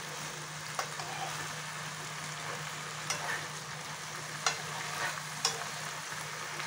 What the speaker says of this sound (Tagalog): Ginisa ko siya ng olive oil.